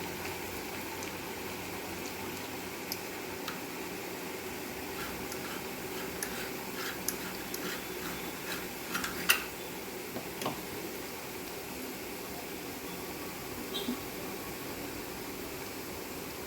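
Ribbon pakoda dough frying in a pan full of hot oil, a steady soft bubbling sizzle with faint ticks and crackles, one sharper pop near the middle, no one talking.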